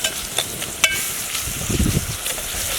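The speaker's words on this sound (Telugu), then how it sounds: "అల్లం వెల్లుల్లి పేస్ట్ వేసుకున్నాము. దీనిలోనే ఫ్రై అవ్వాలి" Ginger garlic paste fries in a hot pan, giving a steady close hiss and sizzle with a few light stirring scrapes, and no one talks.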